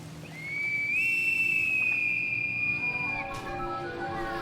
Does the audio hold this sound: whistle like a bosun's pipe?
yes